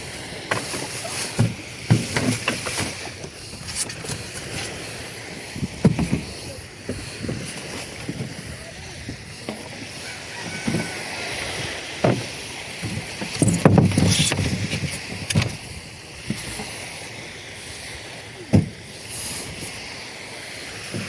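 A small fishing boat moves on water, with sloshing and lapping splashes against the hull, irregular knocks and a steady wash of background noise.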